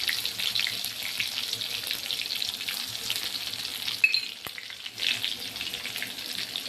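Chopped garlic drops into hot oil already tempered with mustard seeds, cumin, a cinnamon piece and bay leaf, setting off a continuous bright sizzle with a short clatter midway.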